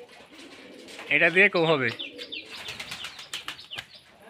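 Rajshahi Giribaz pigeons coo in a brief burst near the start, with scattered chirps and wing-flaps after, close and fairly loud while someone speaks over them.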